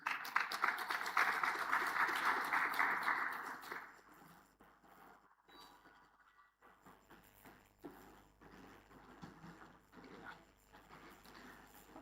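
Applause from a conference audience at an African agriculture science week assembly, a moderately loud burst of many hands for a few seconds that stops abruptly, followed by quieter room noise and scattered sounds.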